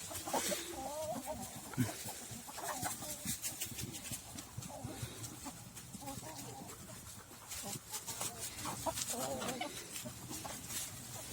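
Hens and a rooster cluck and fuss continuously in a busy village coop, with occasional louder squawks, faint and somewhat distant, under low chatter.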